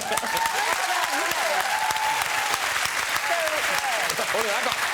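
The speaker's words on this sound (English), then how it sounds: "I got the quick clap." Brief burst of studio audience clapping on a TV chat show, loud and dense, with voices talking over it throughout.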